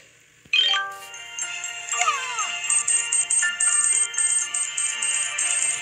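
A cell phone ringtone in a video game plays a bright electronic melody, with repeated chiming tones that continue steadily after a sudden start.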